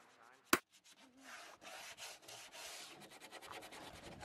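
Hand sanding on the inside of a wooden Eastport Nesting Pram dinghy, a dry rasping rub that repeats in uneven strokes after a brief sharp knock, close and moderately loud.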